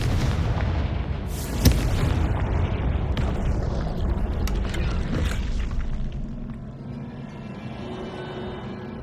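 A Confringo blasting curse sets off rumbling explosions in the Hogwarts Legacy video game, with a sharp crack near the start and heavy booms rolling and decaying before fading to a quieter hum.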